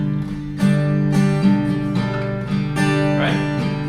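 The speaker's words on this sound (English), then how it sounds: "So say you just learned a strumming pattern on the guitar, which sounds like this" An acoustic guitar strums a rhythmic pattern, with bright, full chord strokes landing in a steady repeating groove, close and fairly loud, with no voice.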